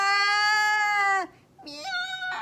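A human voice imitating a cat's meow, two drawn-out, whiny tonal cries with a bending pitch and a short pause between them.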